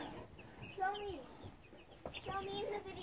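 Silver Lace and Americana chickens cluck and make short warbling calls close by, with a quiet voice speaking among them.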